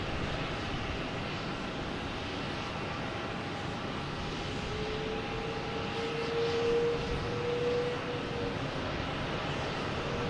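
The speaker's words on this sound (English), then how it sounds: "Now it's on the roll. Delta heading to Newark. E170, flight" A Delta Embraer E170 regional jet on its takeoff roll toward Newark at Boston Logan, a long steady engine rumble with a faint rising whine that swells slightly midway, heard from a distance without voices.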